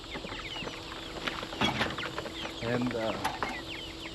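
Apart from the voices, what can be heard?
young chickens clucking in a chicken tractor on grass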